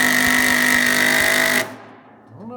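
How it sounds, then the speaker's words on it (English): A power impact driver hammers a screw all the way home with a loud, steady rattling chatter that cuts off abruptly, followed by a faint settling tail. "it does drive the screw all the way home, but it gives up after"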